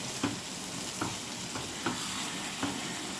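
Corn curry gravy for a Gujarati corn shaak being stirred in a pan, with soft scraping strokes at a slow, uneven rhythm over a faint steady sizzle, close and fairly quiet.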